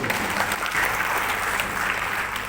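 Applause from a crowd at a credit union cooperative annual members' meeting in South Sumatra, a dense steady wash of many hands clapping that holds at an even level throughout.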